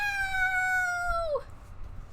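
A cat in Genshin Impact lets out one long, clear, tonal meow that holds steady and then bends downward at the end, loud and close, with no talking over it.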